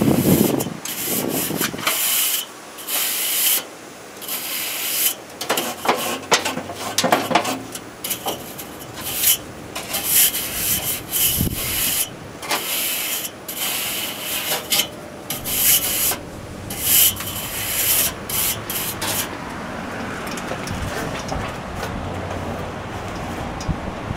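An air conditioner's heat exchanger is cleaned during routine servicing, with repeated rubbing and brushing strokes and hissing spray bursts in an irregular rhythm, close and moderately loud, with no talk.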